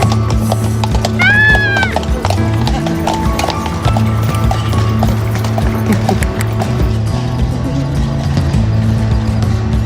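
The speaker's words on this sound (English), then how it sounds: "We are on a horse carriage!" A horse-drawn carriage crossing Krakow's main square in the Old Town, with steady clip-clop of hooves on paving, a brief whinny early on, and ambient square noise and some talk around it.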